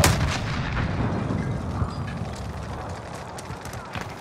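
Airstrike explosions in the video game Call of Duty: Modern Warfare thunder in a dense, continuous barrage of booms and blasts, loud and close, with some voices underneath.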